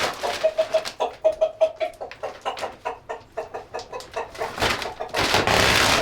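Chickens in a coop clucking loudly and close while bedding is spread, a rapid run of agitated repeated clucks building into a louder flurry of squawks and rustling toward the end.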